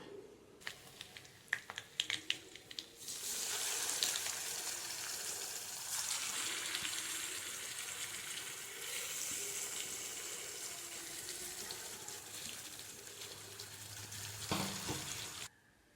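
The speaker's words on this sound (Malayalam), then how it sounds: "ഒരു പാനിൽ എണ്ണ ഒഴിച്ച് ചൂടായ ശേഷം കറിവേപ്പില ഇട്ട് അതിലേക്ക് ഇട്ട് കൊടുക്കുകയാണ്" Squid sizzles in a pan of hot oil with curry leaves, a few utensil clicks at first, then a sustained fizzing hiss that swells and holds until it fades near the end.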